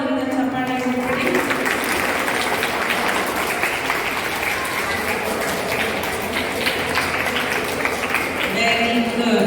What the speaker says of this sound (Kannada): ಫ್ಯಾಮಿಲಿಯವರಿಗೆ ಜೋರಾದ ಒಂದು ಚಪ್ಪಾಳೆ ಕೊಡಿ